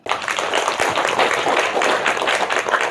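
An audience claps together at a religious talk in Indonesia, a thick burst of applause that starts abruptly and stays loud and steady for a few seconds.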